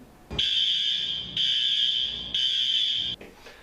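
Three loud, shrill fire alarm blasts sound in a steady rhythm, each lasting about a second with short gaps between them.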